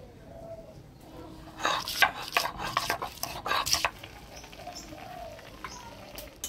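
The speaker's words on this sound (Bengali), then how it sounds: "রসুন আর লঙ্কা একসাথে বাইটে নিব।" Garlic and chili ground together on a stone in a village kitchen, heard as a close burst of rough scraping and rubbing strokes in the middle, then quieter scrapes.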